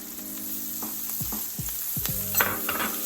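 Fresh ginger sizzles in a hot frying pan with broccoli rabe stalks and oil, a steady close hiss broken by a few stirring scrapes, with no talking.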